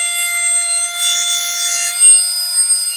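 BESDIA pneumatic air lapper reciprocating at 35,000 strokes per minute against carbide, giving a steady high-pitched whine with a thin rasping edge, constant and close throughout.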